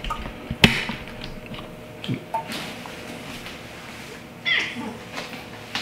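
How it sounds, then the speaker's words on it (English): An indoor cat meows a few times, with short, moderately loud calls at intervals amid faint shuffling and handling noises, and no talk. "We got a kitty here trying to help us with the science."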